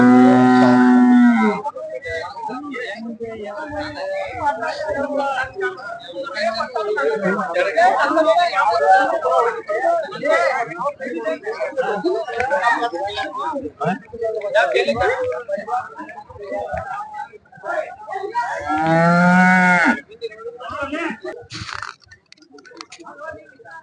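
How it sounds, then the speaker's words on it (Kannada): Cows and buffaloes at the Dharwad cattle market, with loud, long moos near the start and again near the end, and busy market chatter and talk in between. "ಇಲ್ಲೊಂದು ಹಸು ಇದೆ ನೋಡಿ ನಮ್ಮ ರೈತರು ತಂದಿದ್ದಾರೆ ಧಾರವಾಡ ಪೇಟೆಯಲ್ಲಿ"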